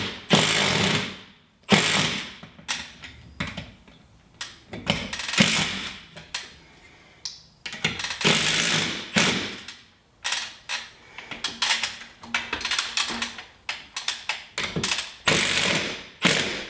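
Screws being driven into a metal storage lumber rack with a power driver, heard as repeated bursts of ratcheting, whirring mechanical noise separated by short pauses, close and loud with no talking.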